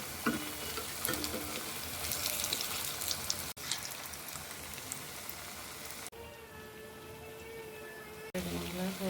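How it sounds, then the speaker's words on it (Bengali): Beguni (battered eggplant fritters) and potato chops frying in hot oil for an iftar meal, a steady close sizzle and crackle running throughout, broken by brief cuts and stirring noises. "আলুর চপ বানাচ্ছি বেগুনি বানানোর পরে"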